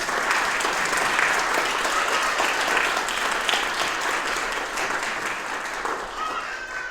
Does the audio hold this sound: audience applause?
yes